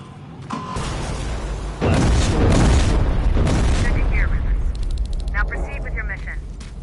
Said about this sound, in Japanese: 大爆発。